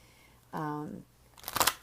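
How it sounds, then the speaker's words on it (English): Angel healing oracle cards being shuffled by hand, a short burst of crisp riffling near the end following a brief humming tone. "I'm going to go ahead and shuffle the angel cards"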